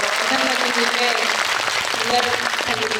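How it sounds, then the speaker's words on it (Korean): Cinema audience applauds film director Lee Sang-geun at a post-screening talk for the film Exit, steady clapping with voices speaking over it. "박수 부탁드립니다"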